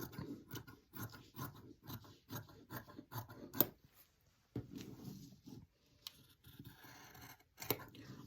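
Scissors snip through fabric while a T-shirt is cut out for sewing, giving a run of close, rhythmic crunching cuts with short pauses, then a few more scattered snips after a break.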